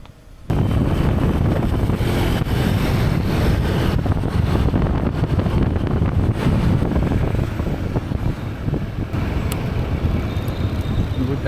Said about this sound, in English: A bit windy today